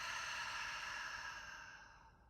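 A long, soft, breathy exhale during a guided breathing exercise, close and steady, gradually fading out toward the end with no talking.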